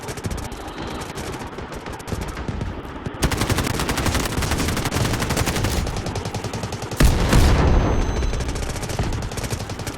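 Sustained rapid automatic gunfire in the Delta Force Mobile shooter on the Cyclone map, loud dense bursts filling the whole stretch with no talk over it.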